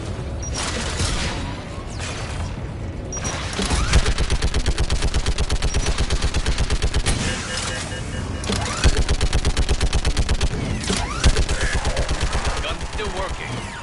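Rapid automatic turret gunfire in a sci-fi space video game, loud close bursts of rattling shots repeating across the whole stretch with brief pauses, over steady mechanical rumble.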